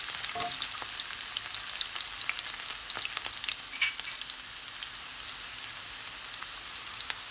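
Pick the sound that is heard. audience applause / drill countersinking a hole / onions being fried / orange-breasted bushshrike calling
onions being fried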